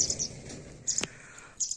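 Several short, high bird chirps come in brief clusters over a quiet background, fairly faint and a little distant, with one sharp click partway through.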